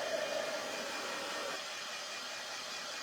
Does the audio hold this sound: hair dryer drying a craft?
yes